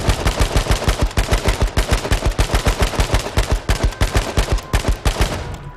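An AK rifle in a video game fires at a tree in a long, rapid automatic string of loud, evenly spaced shots that taper off at the end.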